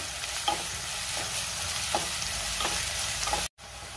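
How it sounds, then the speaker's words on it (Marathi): Finely chopped onions fry in hot oil for a chicken sukka, a steady close sizzle with a few scraping stirs spaced through it, then a brief dropout near the end before the frying resumes. "आपण कांदा तेलावरती चांगला सोनेरी रंग येईपर्यंत परतून घ्यायचा आहे"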